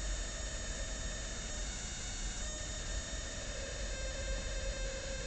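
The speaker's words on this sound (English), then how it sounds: "Hear that coil taking off?" A pulse generator coil run at about 130 to 150 volts on roughly 110 milliamps gives a steady, sustained high-pitched whine over broadband hiss, slowly climbing in tone as it ramps up, with no talking.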